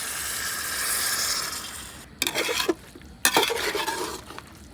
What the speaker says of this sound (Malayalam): ഇനി നമുക്ക് കുറച്ച് തിളച്ച വെള്ളം കൂടി ഒഴിച്ചു കൊടുക്കട്ടോ